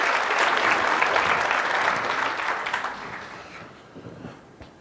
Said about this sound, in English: They deserve some applause, this company.